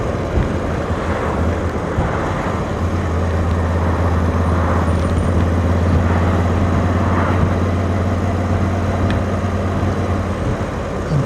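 A V85TT motorcycle with a decat exhaust cruises in fifth gear at about 36 mph and just over 2000 RPM, a low, smooth engine drone steady beneath heavy wind rush.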